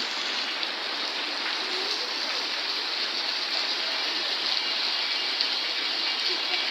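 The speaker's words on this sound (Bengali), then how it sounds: "দেখতেই পাচ্ছেন খুব বৃষ্টি হচ্ছে।" Heavy rain pours down steadily in a dense, even hiss, close and loud, without any pauses or voices.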